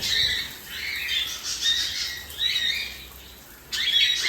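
Pet cockatiels squawk during a bath in hot weather, with repeated loud, harsh calls in short bursts that come close together and sound near, with a final strong burst at the end.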